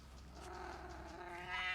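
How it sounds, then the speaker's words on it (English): A cat in a video game giving a soft, drawn-out meow that rises toward the end, faint and alone. "Oh, there's a cat."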